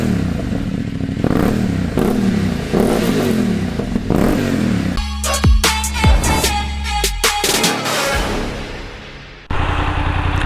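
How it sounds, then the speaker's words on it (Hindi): A BMW GS motorcycle on its stock exhaust revs close by, a series of rising and falling engine blips followed by clattering mechanical noise and a sudden louder burst near the end. "you can here the stock exhaust sound"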